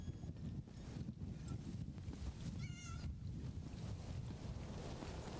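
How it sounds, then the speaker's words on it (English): A goat bleats in a fantasy video game, a short wavering cry that comes once over a steady low rumble of wind and background game noise. "Oh, that's a goat."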